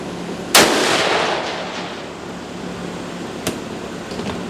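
A single sharp rifle shot fired at a long-range target cracks loudly near the start and decays into a long rolling echo, followed a few seconds later by a faint distant report.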